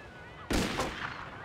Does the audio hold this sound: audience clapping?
no